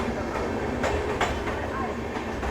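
An Andhra Pradesh Express train runs along, heard from inside a general coach: a steady, loud low rumble of wheels and carriage with faint rhythmic clatter and brief rattles throughout, without clear speech.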